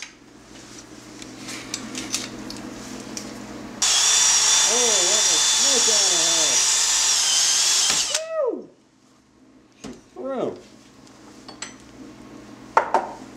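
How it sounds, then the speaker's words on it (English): A power drill whirs loudly for several seconds boring through a full-size hockey puck while people talk over it, then the motor winds down and voices continue in a quieter room. "drilling another hole in a full-size hockey puck to the other side"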